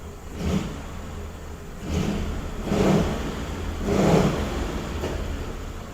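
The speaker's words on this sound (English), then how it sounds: "going to try to fire this baby up" A 1935 Ford engine cranks and catches, surging in three rising bursts over a steady mechanical drone, fairly close and moderately loud with no talk.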